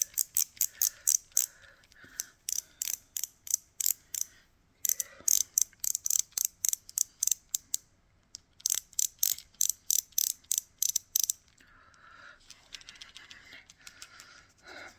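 A makeup product's twist-up mechanism is cranked in quick bursts of crisp, ratchety clicks, close and dry, each burst a fast run of ticks followed by a short pause, repeated over and over with no talking.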